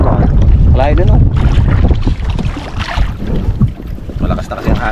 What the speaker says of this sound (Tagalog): malakas na kasi ang hangin eh.